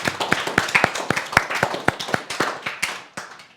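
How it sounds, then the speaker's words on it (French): A school audience at the Collège Restif de la Bretonne in Pont-sur-Yonne claps for a student, with many quick, close hand claps forming a steady, lively applause that thins slightly toward the end. "Bravo, Julia, on l'applaudit"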